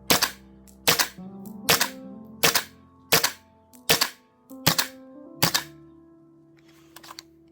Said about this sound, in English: it continued to shoot the rest of the BBs, even though the mag is